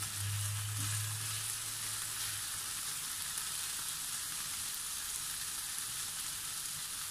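Chicken thighs fry in a pan as a steady broadband sizzle, with a low hum in the first couple of seconds. The hiss stays even and continuous throughout, with no talk.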